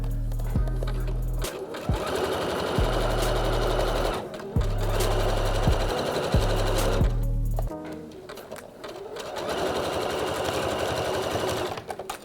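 Sewing machine stitching a stretched cuff onto a pair of trousers, running in loud steady bursts that start and stop several times, with short pauses between runs and a longer stretch of stitching near the end.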